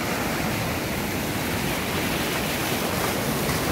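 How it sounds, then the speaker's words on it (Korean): Strong ocean waves surge at night along the shore, a dense steady roar of surf and rushing water filling the clip without pause. "파도가 세서"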